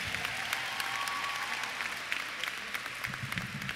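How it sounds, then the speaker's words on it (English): A crowd at a high school graduation ceremony gives a full round of applause, a dense and steady wash of clapping with a few louder individual claps near the end. "Let's give those ladies another round of applause,"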